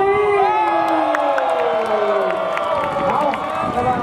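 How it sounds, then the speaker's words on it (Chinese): An audience at a stage competition show screams and cheers loudly, with high, sweeping shrieks over a roaring crowd and some voices mixed in. "接下来就准备一个尖叫声以及掌声"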